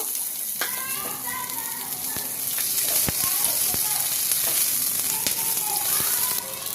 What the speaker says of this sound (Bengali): রসুন আর একটু পেঁয়াজ পাতা দিয়ে একটু ভাজা ভাজা করে নেব